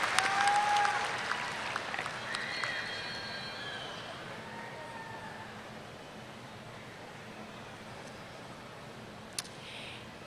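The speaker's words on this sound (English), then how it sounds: "So let's give her a round of applause." Audience applause at a spring university commencement ceremony in a large hall, a sustained crowd clapping that starts loud and gradually fades over several seconds.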